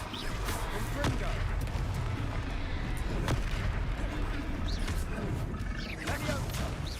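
Confringo spell blasts in the video game Hogwarts Legacy, a continuous barrage of fiery booms and crackling impacts during combat, with shouted voices cutting through the din.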